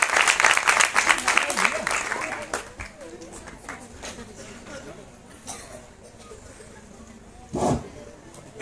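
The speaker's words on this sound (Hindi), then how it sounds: "एक बार जोरदार तालियां श्री राजीव कुमार सोलंकी जी के लिए।" Audience applause for a guest invited on stage at a science festival award ceremony in Uttarakhand, loud at first and then thinning into scattered claps, with voices and stage noise beneath.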